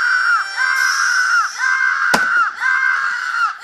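A girl character in the video game Happy Wheels screams in a continuous, loud, high-pitched wavering wail that repeatedly dips and rises, broken by a single sharp crack midway.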